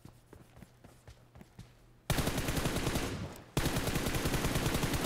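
Rapid automatic gunfire in a shooter video game, first as quieter distant bursts of single shots, then a loud, dense, sustained close burst that briefly drops away before resuming at full intensity.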